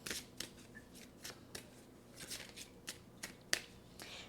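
Playing cards are handled and shuffled close by. Quiet, crisp riffles and snaps come in irregular bursts with no talk.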